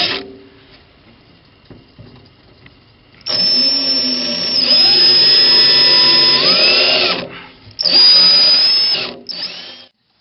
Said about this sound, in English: I'm going to go ahead and start drilling them out